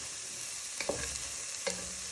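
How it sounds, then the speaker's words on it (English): Spices sizzle steadily in a hot pan over previously fried red onion and garlic, a continuous close hiss broken by a few soft stirring scrapes and clinks. "So we're going to cook our spices first"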